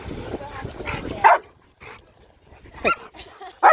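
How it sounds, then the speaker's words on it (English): A dog at a dog park gives a few sharp, close barks separated by pauses, with someone talking over the first part. "what are you barking at?"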